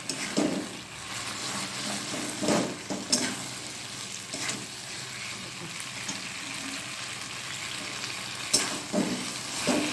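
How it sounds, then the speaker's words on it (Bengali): Tomato sauce fries on a high flame in a pan during home cooking, a steady hiss and sizzle broken by a few louder scraping stirs, close up, with no voices. "এবার এটাকে একটু ফ্লেমটাকে একটু হাই করে এই টমেটো সসটা ভাজা ভাজা হওয়ার জন্য ছেড়ে দিতে হবে।"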